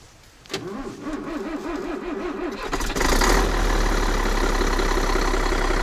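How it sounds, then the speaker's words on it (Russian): A truck engine cranks with a rhythmic whirring starter, then catches and rises to a loud, steady rumble of a big motor idling close by, in a garage at about minus 8 degrees. "запускаем мотор"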